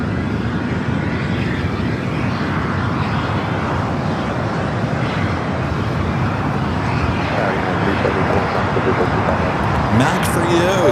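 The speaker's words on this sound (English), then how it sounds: "KLM bringing in the 777-200ER." A KLM Boeing 777-200ER in KLM Asia livery at LAX gives off a steady, loud jet roar with traffic noise beneath it, and a voice talks over it for most of the stretch.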